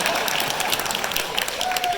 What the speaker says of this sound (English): Give a round of applause for the guy who actually got to Van Cayman.